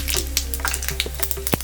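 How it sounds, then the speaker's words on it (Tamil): Close crackling and popping of mustard seeds in hot oil, a dense sizzle dotted with sharp little bursts. "கடுகு நல்லா பொரிக்கணும்."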